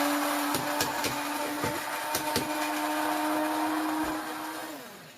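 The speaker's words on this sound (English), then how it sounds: "dump your dehydrated onions in it and just grind them, powder them, break them apart" An electric grinder whirs steadily while powdering dehydrated onions, a loud continuous motor drone with rattling pieces ticking against the inside, before the motor slows and winds down near the end.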